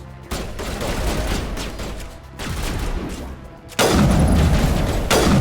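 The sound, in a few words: gunfire from a gun in the video game Mass Effect Legendary Edition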